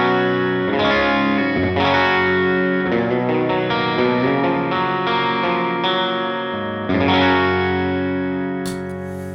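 Reverend Gil Parris Natural electric guitar on its bridge humbucker with a clean tone, playing a steady run of ringing chords and single notes up close, loud and continuous with no talking.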